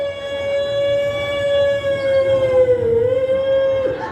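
Ambulance siren holding a steady loud wail with rich harmonics, dipping slightly near the end, heard alone over a low background rumble.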